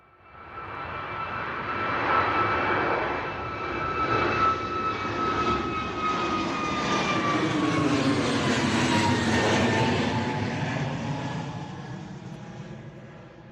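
A jet airliner comes in to land on runway 09 at Bristol Airport in a crosswind at sunrise, its engine roar swelling loud and steady, then rising in a sweeping whine as it passes close by, with no talk.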